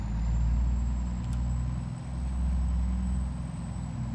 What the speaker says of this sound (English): This truck is like a lead sled when it's fully loaded